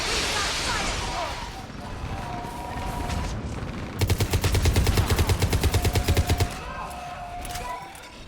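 Rapid automatic gunfire in the sci-fi shooter Mass Effect 3 during a battle in a burning city, a loud stuttering burst of evenly spaced shots after shouted voices and rumbling explosions, talk continuing once the firing stops.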